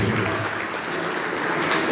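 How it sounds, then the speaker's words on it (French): Sustained applause from an audience at a trophy award ceremony on the empowerment of Comorian women, a dense, steady wash of clapping that holds at an even level for the full two seconds with no speech over it. "Veuillez applaudir Madame la Présidente."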